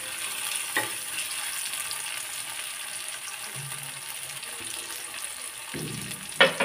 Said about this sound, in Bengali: পেঁয়াজ আর রসুনটা একটু গোল্ডেন কালার করে ভাজি করে নিতে হবে